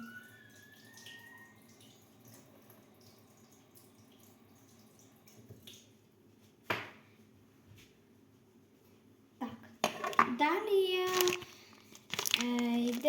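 Running water from a tap splashes over something being washed at a kitchen sink while a lunch box is packed, quiet at first and then louder toward the end, with a voice talking over it.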